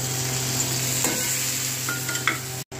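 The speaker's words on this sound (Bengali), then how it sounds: "এই বিট সেদ্ধ করা আছে, বিট আলু এইগুলো ভাজবো এতে করে" Boiled beetroot and potato pieces fry in a pan with onion and bay leaf, making a loud, continuous sizzle with a few stirring scrapes, alone without any talk.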